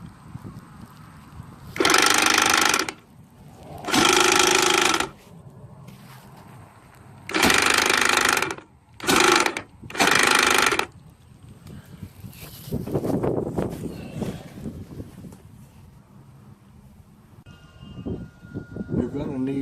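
A faulty Atwood electric power jack motor whines in five loud, close bursts of a few seconds each, separated by short pauses, followed by quieter rumbling and handling noise.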